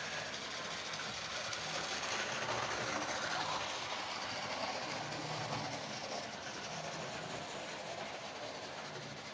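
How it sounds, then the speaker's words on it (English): A green Great Western steam locomotive, Lydham Manor, pulls three Great Western coaches past, heard as a steady, fairly loud rolling rumble of wheels on rail lasting throughout with no voices. "And it's pulling 3 Great Western coaches."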